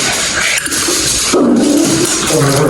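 Tablespoons of water poured into freeze-dried powdered egg in a bowl, a close, steady splashing pour with a short gap between spoonfuls.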